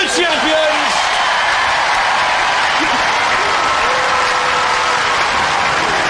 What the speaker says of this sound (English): Secure the applause